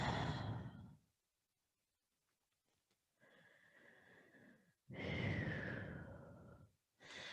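Deep, slow breaths taken during a flowing yoga class, one long exhale fading out, then a pause before a fuller inhale and a strong breath out, followed by another beginning; close and clear with no talk.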